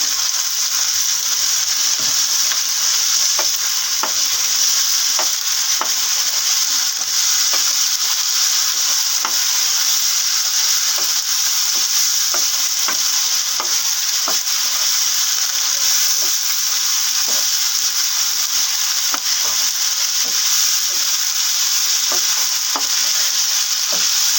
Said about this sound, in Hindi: अब ये फूल गोभी शामिल कर देंगे।